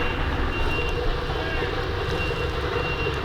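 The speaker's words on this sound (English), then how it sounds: "Sorry about the construction noise." Construction work across a creek, a steady loud mechanical drone with a faint high tonal beep like a reversing truck, continuous throughout.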